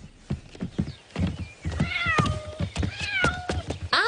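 Cats meow in a cartoon scene, several rising and falling calls in a row, close and clear, with soft thumps between them and no talk.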